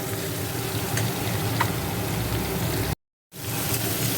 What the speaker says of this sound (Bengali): আমি একটু বেশি করে তেল দিয়েছি তাই আর খুব আস্তে আস্তে করে নাড়ছি